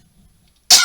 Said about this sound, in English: I'm getting over a little cough, so I might be coughing.